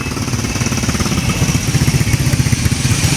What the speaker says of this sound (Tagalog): Pag init ang motor mga idol, tulad ng ganyan mga idol.